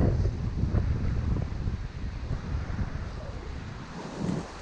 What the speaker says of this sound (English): That goddamn wind picked up so fucking fast.